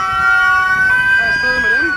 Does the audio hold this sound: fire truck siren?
yes